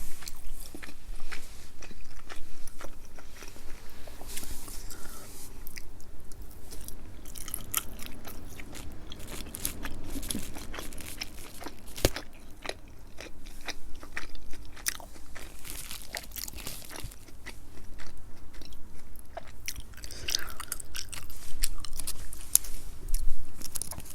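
Khmer nom banh chok noodles are chewed close to the mic in a mukbang, with continuous soft, wet chewing, small crunches and faint scraping sounds, and no talking.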